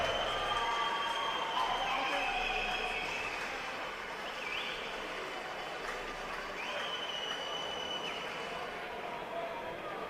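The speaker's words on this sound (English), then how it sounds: "Lots of applause from the local fans in attendance here." Local fans applaud at the 2024 World Ball Hockey Championship opening ceremony in an indoor rink as national teams parade with their flags. The clapping and crowd noise form a dense, steady wash that holds for the whole stretch.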